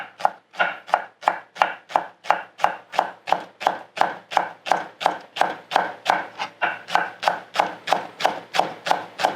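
A knife chops beef on a cutting board for braised beef, a steady run of about thirty sharp, evenly spaced strokes, close and clear, with no talking.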